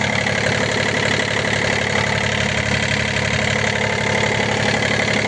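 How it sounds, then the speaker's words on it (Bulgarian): An excavator's diesel engine idles steadily, loud and close, a constant even rumble with no change in revs and no voices. "Ето в момента двигател работи"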